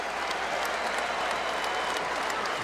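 A large arena crowd of more than 19,000 gives a standing ovation at a college basketball game in Knoxville, Tennessee, a steady dense roar of applause that holds evenly throughout with no voices standing out.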